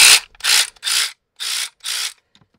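An ACDelco cordless brushless heavy-duty ratchet runs in five short whirring bursts separated by brief pauses, close and fairly loud with a gritty mechanical buzz.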